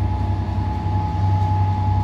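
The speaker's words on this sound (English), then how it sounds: "But there goes 67008 at the back end of this train service." Transport for Wales train departing Stockport with locomotive 67008 at the rear, a loud steady low diesel rumble and a constant whine, close by and unbroken.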